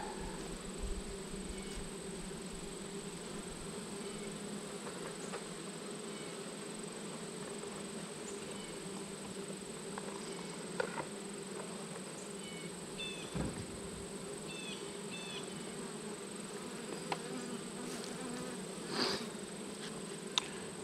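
Honey bees hum in a dense, continuous buzz around a backyard hive. The drone is steady and moderately close, with occasional individual bees passing nearer and no talk.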